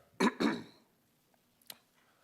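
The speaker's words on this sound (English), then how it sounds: "I don't know why I turned the mic on to clear my throat." Two quick, close throat-clearing rasps into a microphone at a city council work session, then a small, faint cough-like click after a brief silence.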